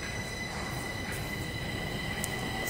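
A Stockholm metro train heading toward Mörby Centrum runs with a steady, muffled rumble heard from inside the car, faint high wheel squeals drifting over the noise and no talking.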